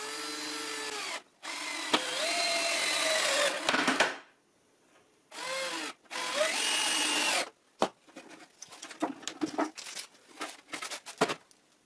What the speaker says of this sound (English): I also insert screws from the bottom of the sawhorse